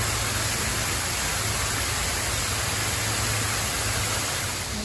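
Waterfalls at the Caldwell Zoo in Tyler, Texas rush in a steady, broadband hiss that sounds fairly close and unbroken throughout, with no voices over it.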